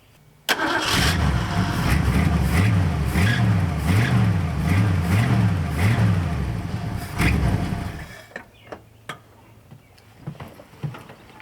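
A V8 engine in a Mustang Cobra with the exhaust unbolted after the downpipes cranks and roars to life loudly, then revs in several rhythmic surges before shutting off, leaving faint clicks and ticks.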